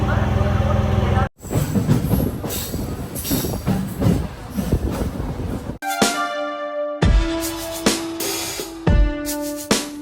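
A MEMU train runs on the tracks into Sangam Jagarlamudi station, a loud continuous rumble and rattle with abrupt cuts and later high tonal wheel squeal, under occasional talk.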